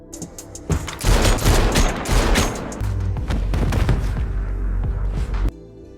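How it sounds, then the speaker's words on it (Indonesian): Gunfire in an action film scene, a dense fusillade of loud, rapid shots and bursts in close succession. The shooting rolls on for several seconds with booming low rumble beneath it, and no voices are heard. "ia pun langsung memberondong Brian"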